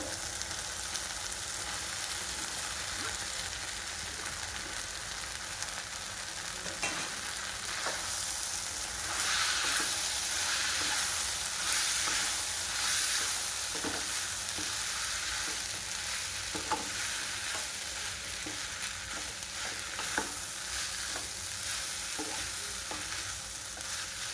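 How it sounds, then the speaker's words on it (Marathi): Vegetables for Hakka noodles stir-fry on a high flame, a loud, steady sizzle and hiss with the scrape and toss of stirring running throughout, close and unbroken. "छानपैकी हाय फ्लेमवर आपल्याला हे परतून घ्यायचे आहे."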